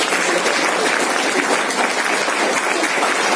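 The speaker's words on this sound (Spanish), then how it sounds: "Démosle un fuerte aplauso" Loud, sustained applause from a school audience at a closing ceremony at the Instituto Doctor Esteban Mendoza in La Labor, Ocotepeque, honoring BCH students; dense steady clapping fills the whole stretch without a break.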